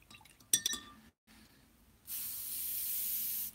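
Thinned hairspray chipping fluid sprayed from a bottle: a few clinks of glass first, then a steady close hiss lasting over a second, no speech.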